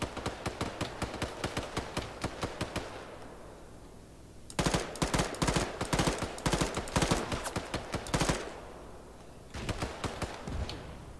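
Automatic weapon fire in an Arma 3 battle hammers out in long rapid bursts, loud and near. A short lull around the middle breaks it before dense firing resumes, then it tapers to scattered shots.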